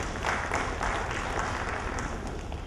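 An audience claps steadily at a stock exchange market launch ceremony, a dense, fairly close wash of hands that continues without pause.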